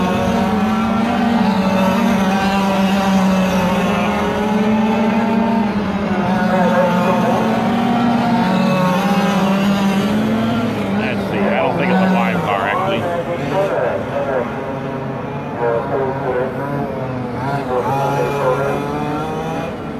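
Sportsman race cars on a QSAC track run warm-up laps, their engines droning loudly and steadily throughout while an announcer talks over them.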